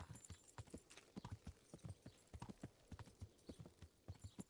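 Horse hooves clip-clop in a steady walking rhythm as a rider travels in Kingdom Come: Deliverance, each footfall sharp, close and clearly spaced, with no talk over them.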